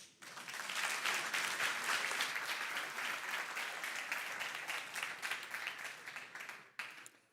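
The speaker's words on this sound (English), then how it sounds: "Let's give her a warm clap of" A conference audience at NorthSec 2019 welcomes a speaker with applause that swells quickly, holds as a steady, dense wash of clapping, then tapers off, somewhat distant and moderately quiet.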